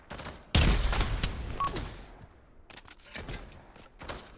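A burst of rapid gunfire erupts in the virtual reality shooter Pavlov VR, followed by scattered sharper shots and echoing cracks, loud and close, then thinner intermittent firing.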